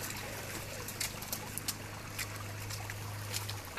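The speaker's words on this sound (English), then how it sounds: "Because I need to walk directly through the river." Soft trickling and sloshing of river water as someone wades directly through it, quiet and close, with a few light splashes and a low steady hum beneath.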